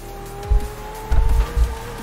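In Forza Horizon 4, car tires squeal steadily through a reverse J-turn, a sustained high whine with low thumps and engine rumble pulsing beneath it.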